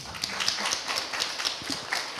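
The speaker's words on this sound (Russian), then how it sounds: "Аплодисменты." An audience at a Moscow industry exhibition claps, with a spread of fairly close, crisp individual hand claps forming a steady, moderate round of applause.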